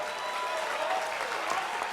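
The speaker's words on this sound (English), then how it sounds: "join me in applause" Audience applause at a commencement fills the room, a dense, steady wash of many hands clapping at moderate volume, with no pauses.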